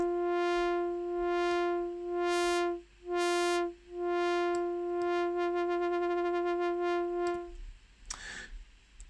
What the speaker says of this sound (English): Now we got a simple sine wave going.